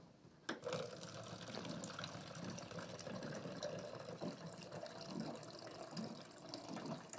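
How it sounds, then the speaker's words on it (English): An office water dispenser fills a cup: a steady stream of running water starts with a sharp click and continues evenly for several seconds, close by and fairly quiet. "Luckily, I have a handy water dispenser in the office for just this occasion."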